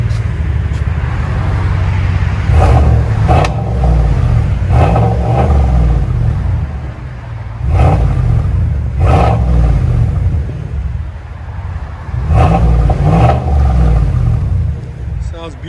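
A GMC Sierra 1500 AT4 with a 6.2L V8 and a Flowmaster Outlaw Super 10 race muffler, revved repeatedly in loud, deep bursts over a throaty idle, with someone talking over it.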